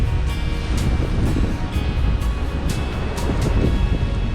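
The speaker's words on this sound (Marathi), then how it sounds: "पेसाळणाऱ्या लाटा सगळ्या इथपर्यंत येतात." Foaming sea waves wash up onto the rocky shore at the Malvan rock garden on the Konkan coast, a steady broadband roar with recurring surges and wind noise throughout, and no voices.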